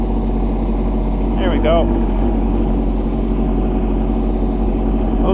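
A K-008 mini excavator's 10 hp three-cylinder diesel runs at a steady, loud, close chug, with a short metallic squeal partway through and a brief spoken remark over the drone.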